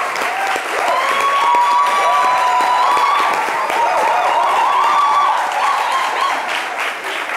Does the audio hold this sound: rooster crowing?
no